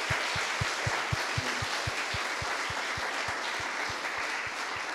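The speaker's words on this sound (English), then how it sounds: "Maybe a final applause for all the speakers." Audience applause at a crypto meetup in Sofia, honouring the speakers: steady, dense clapping from a room full of people, continuous for the whole stretch, with a low regular thumping pulse running underneath.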